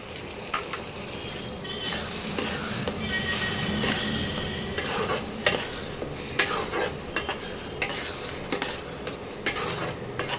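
Tomato paste for mutton curry stir-fried in a pan, a constant sizzle with frequent clinks and scrapes of a metal spoon against the pot, close and busy, with no talking.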